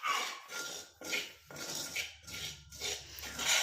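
Hair-dye paste being stirred in a bowl as juice is poured in little by little, giving repeated close scraping strokes of a spoon against the bowl in a steady rhythm, with no talking.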